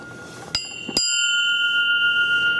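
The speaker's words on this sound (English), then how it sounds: "it's a bell" Heavy bronze bell from the Bronze Craft Foundry, a Qantas International piece, struck twice in quick succession, each ring bright and metallic, the second leaving a long sustained shimmering tone that hangs clearly in a quiet room.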